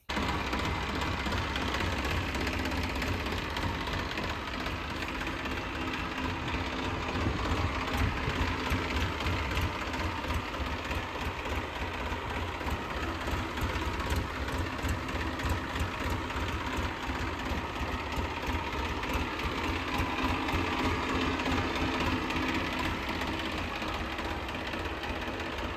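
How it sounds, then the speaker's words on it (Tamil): A Force Balwan 500 tractor engine idles steadily for the whole stretch, a constant low mechanical chatter with rapid even knocking, moderately quiet and with no voices. "இந்த டிராக்டர் ஃபோர்ஸில் பல்வான் 500ங்க."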